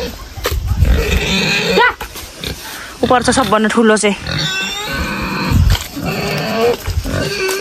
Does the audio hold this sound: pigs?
yes